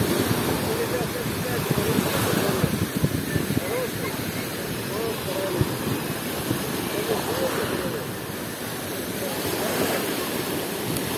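Surf on the Black Sea at Veselovka beach in Krasnodar Krai on a hot day, a steady broad wash of breaking waves with wind buffeting the microphone throughout.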